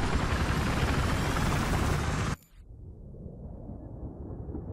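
A helicopter in the video game Battlefield 3, on the Operation Firestorm conquest map. A loud, dense roar of engine and rotor fills the first half, then cuts off abruptly to a quieter low rumble.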